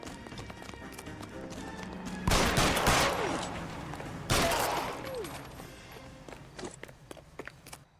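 Two loud gunshots from L.A. Noire ring out about two seconds apart, each trailing into a long reverberant decay, with soft footsteps and faint background game noise around them.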